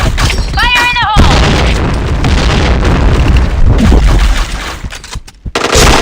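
Grenade blasts and heavy gunfire in a first-person shooter game, loud, dense booming bursts that run almost without a break, with a short voice-like tonal sweep early on and brief quiet gaps near the end.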